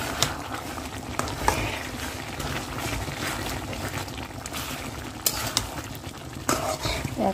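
Turmeric, chili and cardamom fry in a pan as the spices are stirred, a steady close sizzle with occasional scraping clatters, no talking.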